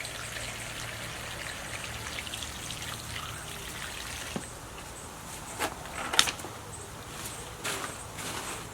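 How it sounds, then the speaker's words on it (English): Water from a hose set to a soaker spray patters softly and steadily onto pumpkin plants in containers, a gentle hiss with scattered drips and a few sharper taps, fairly quiet. "I'm going to just water it in. Turn it to a soaker."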